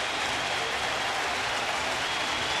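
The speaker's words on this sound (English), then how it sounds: "How about this crowd? They gave him a standing ovation." A baseball crowd at Yankee Stadium giving a standing ovation, a continuous broad roar of cheering and clapping that holds steady and fairly distant for the whole stretch.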